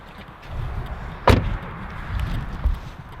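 An electric car's door opens with one sharp, close mechanical clunk partway through, set against a low steady background rumble.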